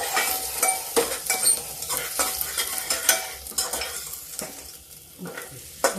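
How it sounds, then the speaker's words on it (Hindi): Garlic and urad dal vadi frying in a pan: a bright sizzle broken by repeated scraping and clattering strokes of a spatula against metal, close and uneven in rhythm. "बढ़िया भून गई है, लहसुन भी हो गया है"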